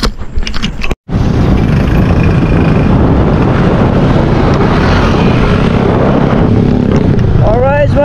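A motorcycle rides along a road on the way to the market, its engine and wind rush forming a loud, steady drone after a brief dropout near the start, with no clear speech.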